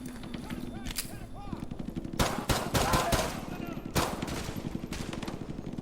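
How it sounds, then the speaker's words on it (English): Gunfire from the Call of Duty MW2 "Rangers Lead the Way" mission, including M9 pistol shots: sharp bursts and single cracks in quick clusters over game background noise, with faint voices. "they actually got the sound of the M9 right, though."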